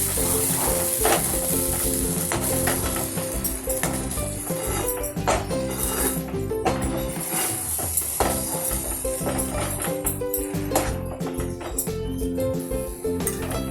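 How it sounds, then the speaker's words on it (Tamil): Thick buttermilk porridge (mor kali) made with a little oil, stirred in a heavy pan: a loud, steady sizzle under repeated scraping stir strokes and occasional taps, sustained throughout. "இதை நல்லா கிண்டலாம். அது நல்லா கெட்டியாக வந்துடும்."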